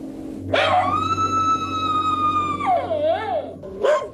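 A dog left behind in Iitate village, an evacuated zone with high radiation, gives a short yelp, then one long, steady, wavering howl, ending with another brief yelp, fairly close and loud with no talking.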